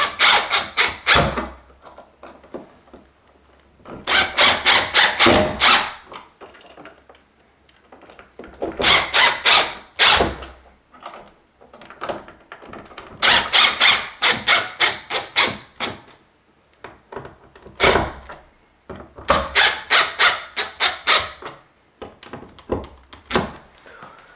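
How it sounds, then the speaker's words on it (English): A screwdriver drives screws into a new light switch in a finished room, making close, squeaky grinding rasps in repeated bursts of several seconds, separated by short pauses. "Now we just gotta screw these screws in."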